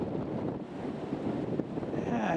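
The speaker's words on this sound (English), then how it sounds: "I obviously haven't reached the spot yet where the wind is supposed to go away" Wind roars continuously across an outdoor microphone beside the River Great Ouse at St Ives, a dense, buffeting rush that never lets up over the short stretch.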